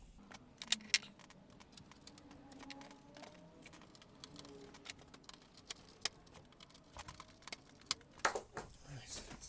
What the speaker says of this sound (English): Well, I'll put these screws back actually.